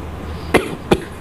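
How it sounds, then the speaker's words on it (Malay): Two short, sharp coughs, close by, spaced a moment apart over quiet room tone during a maths lesson. "Maaf saya batuk."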